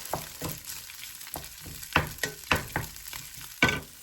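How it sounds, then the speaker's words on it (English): Chnöpfli stir-fried in oil in a pan, crackling sizzle under repeated scraping and clacking stirs, several sharp utensil hits against the pan, close and fairly loud, no voices. "stir fry it a bit."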